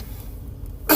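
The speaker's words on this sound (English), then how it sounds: "I need to cough." A single short cough bursts out near the end after a moment of quiet room noise.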